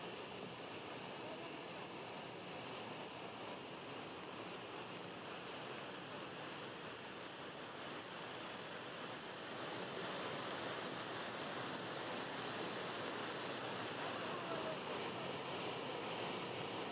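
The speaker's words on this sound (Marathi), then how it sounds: "सासवड शहराजवळ नदी दुथडी भरून वाहत असल्याचं चित्र बघायला मिळते" A flooded river near Saswad town runs bank to bank in light drizzle. It makes a faint, distant, continuous rushing hiss that swells slightly partway through, with no voices.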